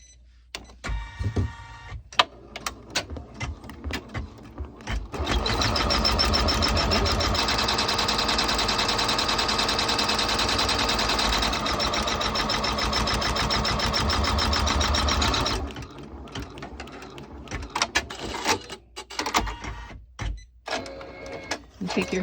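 Embroidery machine stitching a snap tab design on a hooped piece, a steady rapid needle chatter running for about ten seconds, bracketed by quieter handling knocks and clicks before and after.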